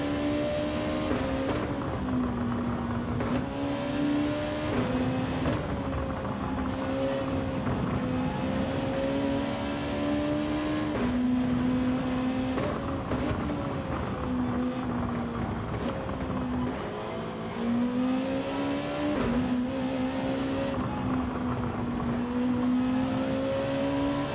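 Race car engines in the Gran Turismo 7 racing game drone steadily throughout, pitch rising and dipping with gear changes as cars follow closely, loud and continuous with no talking.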